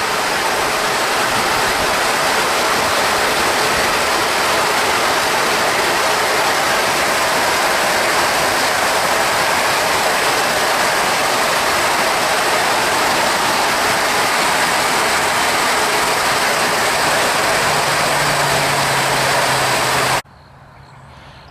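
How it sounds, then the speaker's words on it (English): Backwash water at a water treatment plant rushes through collection troughs during filter cleaning, a loud, steady broadband roar like a waterfall that holds without pause for about twenty seconds, then cuts off abruptly. "all that water that's flowing up is flowing through those troughs, being collected and sent to the wash water"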